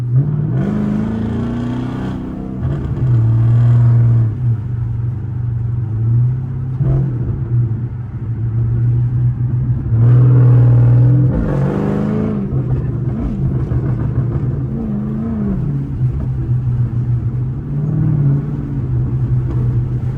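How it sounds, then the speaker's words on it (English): A Chrysler 300C's engine and exhaust run steadily with a deep low rumble, rising in a few revving surges, close by with no talking. "leave the back crack so we can hear the exhaust back there"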